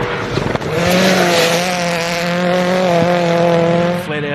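A Hyundai New Zealand AP4 rally car running flat out over a crest on a gravel stage of Rally South Canterbury, its loud, high-revving engine screaming as it sweeps close past, holding pitch before a quick gear change near the end.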